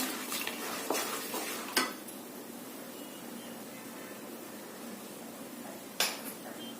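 Roasted chana dal being stirred in a pan, a faint soft dry rustle with a couple of sharper spoon knocks against the metal, close but quiet.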